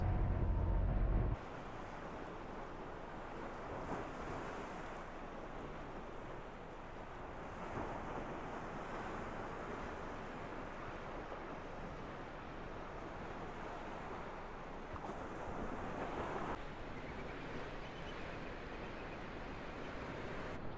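Wind and sea surf roar on the Bolivar ferry, a loud, continuous wash of rushing noise that swells slightly at times. A sharp bump comes near the start.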